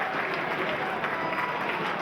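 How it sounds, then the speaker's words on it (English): Crowd at Scotstoun applauds a try scored during a pre-season rugby friendly between Glasgow Warriors and Harlequins, a steady wash of distant clapping with commentary voices faintly underneath. "the crowd absolutely loving that at Scotstoun. Warm applause."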